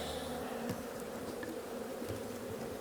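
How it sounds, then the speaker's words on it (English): Honeybees swarm thickly around an opened hive during an early-season split on a cloudy day, a dense, steady close buzzing hum with occasional individual bees zipping past, no voices. "A lot of bees, lots of bees, lots of bees."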